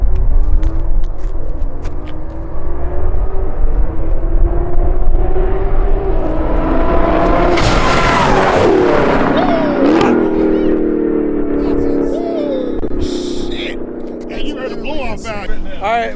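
A God of War race car and a Dodge Hellcat run side by side, engines droning and rising in pitch as they pass close, then fading away, while people talk over the noise.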